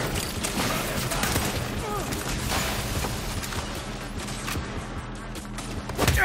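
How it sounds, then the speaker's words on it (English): Gunfire from Saints Row snipers shooting down from an upper floor, a dense run of sharp reports and clattering shots over busy game noise, with a player talking throughout. "There's snipers on the upper floor."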